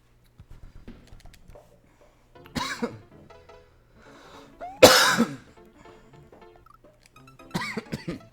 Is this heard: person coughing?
yes